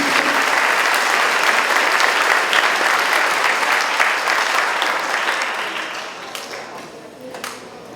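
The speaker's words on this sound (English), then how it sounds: "Please give a special round of applause for these teachers and students that worked above and beyond." An audience at a 4th grade school chorus spring concert breaks into loud, sustained applause. The clapping stays strong for several seconds, then thins and fades toward the end.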